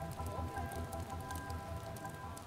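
Rain falls steadily in the video game Watch Dogs, a soft continuous patter of drops on surfaces, fairly faint, with no talking.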